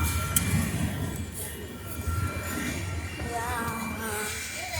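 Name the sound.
train starting at a railroad crossing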